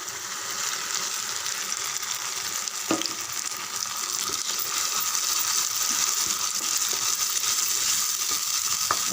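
Onions and ground masala paste for tomato kuzhambu sizzle steadily in a pan, a close, continuous frying hiss with a few faint stirring scrapes.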